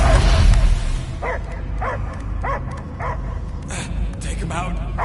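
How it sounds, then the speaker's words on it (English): A dog barks and yips in a sci-fi action video game, several short, evenly spaced barks fairly close over a rumbling background, with a low rumble at the start and game sounds throughout. "I hear only barking."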